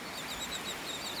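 Shorebirds on a small beach sandbar in North Naples, Florida, give faint, high chirps over a steady wash of wind and surf.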